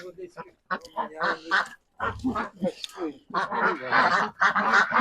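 Geese honk and gabble in a busy flock, with a voice speaking among them; the calls are close and fairly loud.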